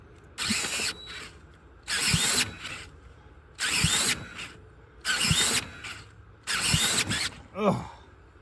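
A power drill cranks a 10,000 watt generator in five separate bursts of about a second each, spaced evenly with short pauses, a whirring, ratcheting churn that never catches and run.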